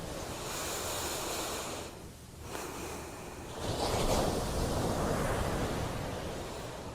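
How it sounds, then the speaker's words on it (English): Ocean waves wash steadily onto a beach, a broad continuous roar that dips briefly and then swells louder, with no voices. "cue the waves"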